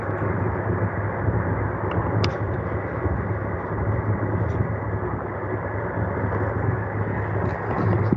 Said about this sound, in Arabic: هو في صوت يا دكتور زي ما يكون حضرتك في قطر